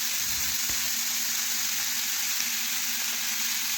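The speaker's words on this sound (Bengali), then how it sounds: "এইভাবে নাড়তে নাড়তে দেখুন মিশিয়ে একটু ভেজে নিচ্ছি।" Shredded cabbage and onion fry in a pan with a steady, even sizzle that holds throughout, joined early on by a soft knock of stirring, near and moderately quiet, with no voices.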